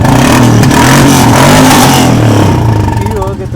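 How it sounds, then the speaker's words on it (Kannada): A car engine revs hard through a loud aftermarket silencer, a dense, loud, sustained roar that eases off toward the end, heard close up. "ಸೈಲೆನ್ಸರ್ ಕ್ರೇಜಿ ಸೌಂಡ್ ಬರ್ತಿದೆ ಬ್ರೋ."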